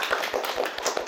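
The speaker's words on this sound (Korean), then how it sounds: "박수." Applause from a small studio audience at a talk show about AI and art, a steady patter of hand claps lasting about a second at moderate loudness.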